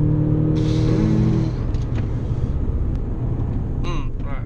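An Audi S3 8V, a 2012-onward hatchback, accelerates hard: a steady droning engine note for the first second and a half, then a broad rush of engine, wind and road noise that carries on to the end.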